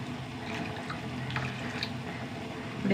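A cup of water runs and splashes steadily into a container, a continuous close liquid pour with faint clinks and no talking.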